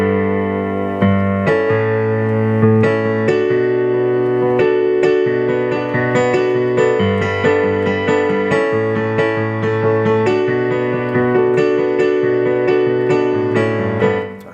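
Piano playing the pre-chorus of a song, steady repeated chords and melody notes in a continuous rhythmic pattern, close and clear throughout with no voices.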